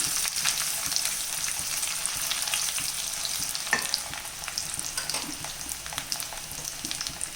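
Steady crackling sizzle of coconut pieces frying in hot oil while stirred, with scraping stirs and occasional sharper pops throughout, close and fairly loud.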